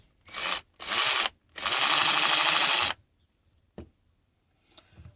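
A power drill fitted with a right-angle attachment whirs in three bursts, the last and longest about a second, each stopping abruptly, then a faint click and quiet handling noises.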